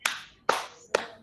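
Three sharp, evenly spaced hand claps ring out close and crisp, roughly half a second apart, as part of a focus clapping routine at a teacher training session, each one followed by a brief decay.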